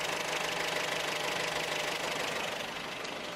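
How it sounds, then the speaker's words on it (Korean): A 1.5-litre hybrid car engine running on its petrol engine with the hood open, a steady close idle hum with fine, even mechanical ticking and no voices. "엔진 소음, 내연기관으로 돌릴 때 엔진 소음 들려드리면은"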